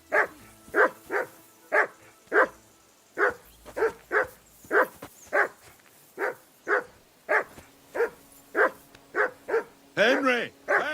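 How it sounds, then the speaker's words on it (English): A dog barks steadily in the medieval setting of Kingdom Come: Deliverance II, about fifteen sharp, evenly spaced barks close by, ending in a longer wavering whine or howl. "Jesus, Henry, that barking's driving me nuts"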